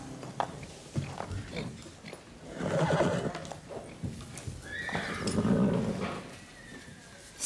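A mare neighs loudly nearby, a long whinny rising and falling, with hoof clops and some shuffling around it.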